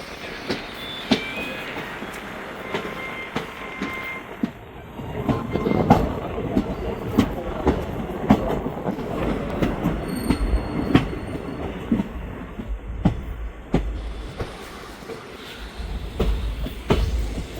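Mysore to Arsikere intercity train running on a rainy morning: a steady close rumble of wheels on track with rhythmic clatter and occasional thin metallic squeals, continuous throughout.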